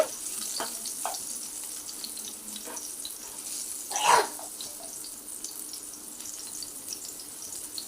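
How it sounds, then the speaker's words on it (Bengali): Pumpkin pieces frying in mustard oil over a medium gas flame, a soft steady sizzle with a few clinks and a louder scrape of turning partway through. "এইভাবে উল্টে পাল্টে কুমড়োগুলো খুব ভালো করে ভেজে নিচ্ছি।"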